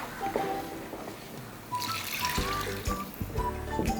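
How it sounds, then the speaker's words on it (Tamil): Water is poured into a pot of vathal kuzhambu, a Tamil tamarind gravy, producing a short close trickling and splashing pour with a few light knocks, without speech. "அதுக்காக தான் இந்த தண்ணி சேர்க்குறோம்"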